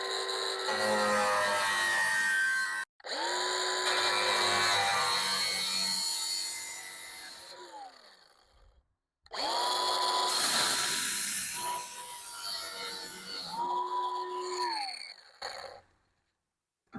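A power saw cuts through metal rake trim on a barn build, giving two long, loud continuous runs with a steady whine that rises and falls as the blade bites, separated by brief pauses and ending in quiet.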